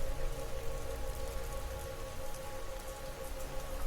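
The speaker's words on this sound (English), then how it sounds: "Water droplets on a car window." Steady rain patters on a car window, a dense, close hiss of droplets over a low rumble, continuous and even throughout with no voices.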